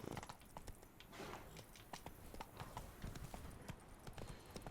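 Roach the horse running in the Witcher 3: Blood & Wine video game, a fast rhythmic clip-clop of hooves on hard ground, close and continuous over a soft ambient bed.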